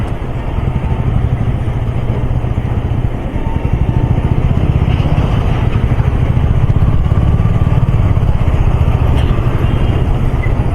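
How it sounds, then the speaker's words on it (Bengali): A motorcycle cruises steadily over the Farakka Barrage bridge, its engine droning loud and close as a continuous mid-pitched rumble mixed with wind noise, with no break in the sound. "এই প্রথমবার লাইফে বাইক নিয়ে ব্রিজের ওপর দিয়ে"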